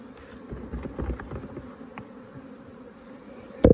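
Honeybees buzz in a dense, steady hum after a nuc is shaken into a hive box, with a few louder thumps and movements near the start and a brief close knock at the end.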